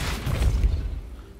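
A Depulso spell cast in a Harry Potter video game lands as a single deep, rumbling boom that swells and then fades over about a second, loud and low.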